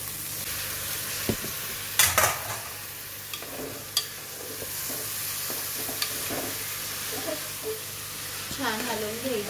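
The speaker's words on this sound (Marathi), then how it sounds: "छान हलवून घ्यायची आहे। मसाले आणि मटकी एकजीव करून घ्यायची आहे।" Matki sprouts being stirred with spices in a hot pan, giving a steady low sizzle broken by several spoon scrapes and clinks; a voice is faintly heard near the end.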